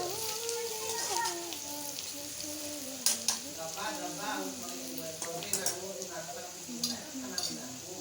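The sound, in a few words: spices frying in oil in a pan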